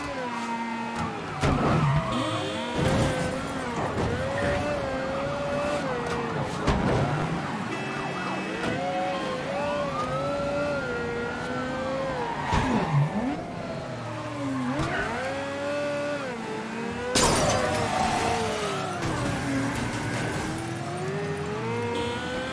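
Car chase in Mafia 3 with engines revving and police sirens wailing, tyres squealing and skidding alongside crashes and thumps, loud and continuous.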